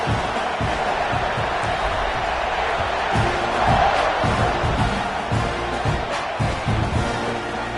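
A college football stadium crowd roars steadily during a Texas A&M versus Syracuse game, a dense, loud wash of cheering and yelling that swells slightly midway, with a commentator's voice faintly under it.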